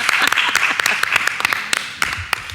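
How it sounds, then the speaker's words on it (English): A board of education meeting audience claps briefly, a short round of fairly close, uneven hand claps that thins out within a few seconds. "This is when we clap"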